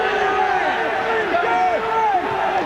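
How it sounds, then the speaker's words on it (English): A rugby league crowd at Carlaw Park roars loudly and steadily during a 1986 Kiwis versus Kangaroos test, with a commentator talking over the sustained noise. "The big roar of Kiwi coming from the crowd"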